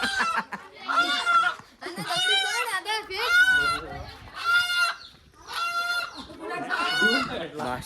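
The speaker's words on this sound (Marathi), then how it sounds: "घाम निघाला आमचा कोंबडा पकडता पकडता" A rooster being caught on a farm lets out a string of loud, strained squawks and clucks in several bursts, close to the listener, with children's voices and excited talk around it.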